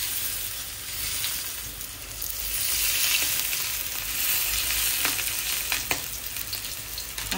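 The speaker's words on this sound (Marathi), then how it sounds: "गॅस फास्ट करून मी त्याला चांगलं भाजू देणार आहे" A large fish fries on a hot tawa over a high flame, giving a loud, steady sizzle and hiss with a few small pops and scrapes, and no talking.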